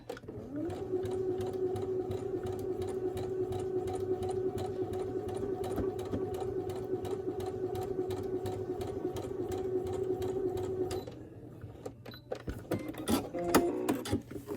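A sewing machine stitches a seam on a postage-stamp quilt block, a steady close whir with fast needle ticking for about eleven seconds, then stops, followed by a few clicks and handling noises.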